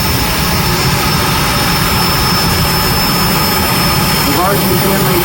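Diesel high-torque super farm tractor in a pulling competition, its engine roaring loud and steady throughout as it drags a sled, dense broadband noise from start to finish with a faint announcer's voice underneath.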